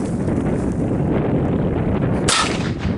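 A .22 Magnum rifle fires one sharp, loud shot at aluminum and stainless steel test plates outdoors, heard alone near the end over a steady wind rumble.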